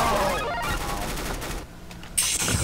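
An AK rifle fires in a Counter-Strike: Global Offensive gun game match, with dense, rapid close-range bursts that crack loudly for the whole short stretch.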